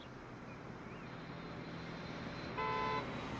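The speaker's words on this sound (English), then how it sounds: "The train will honk" A modern-sounding train horn from the Transport Fever game sounds once, a short steady toot rising above a constant low rumble of background noise near the end.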